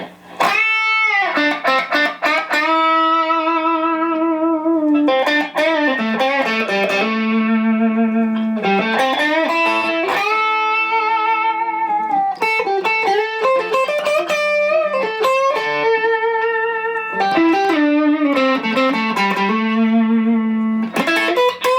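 A Fender Stratocaster electric guitar plays loud, sustained chords and ringing notes in phrases, its tone shifting from bright to warmer as the pickups are switched, with no talking.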